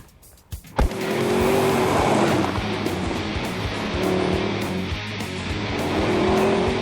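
A Mercedes SLS sports car with a 6.2-litre V8 drives hard, its engine roaring loud and sustained after a sharp start, the note rising and falling steadily up close.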